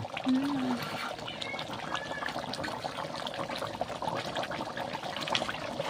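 Mutton curry gravy bubbling steadily in a pot, a soft continuous simmering and trickling texture, close by with a brief faint voice near the start.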